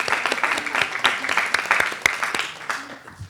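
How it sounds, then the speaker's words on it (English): A room of attendees at a Town of Davie, Florida council meeting gives a brief round of clapping, moderately loud, with a voice speaking over the applause. "Give her a round of applause because clearly there's a medal there."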